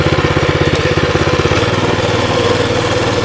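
A Baja Warrior mini bike, a cheap used buy, runs with a steady, rapid small-engine putter that stays loud and close. The rhythm speeds up slightly around the middle and then settles into an even idle-like drone.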